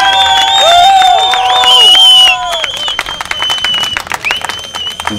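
An audience at a motorcycle club event breaks into loud whistling and cheering, then a burst of clapping and applause that trails off into scattered claps.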